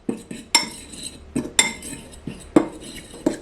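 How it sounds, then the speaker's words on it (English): A utensil mixes buttermilk biscuit dough in a bowl, producing irregular sharp clinks and scrapes against the bowl, each followed by a short ringing decay, close and alone. "what I want to do is mix it in until I get a sticky dough"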